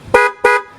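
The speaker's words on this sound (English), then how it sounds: "This horn normally sounds like this" A 2015 car's working horn gives two quick, loud beeps in a row, up close and clear.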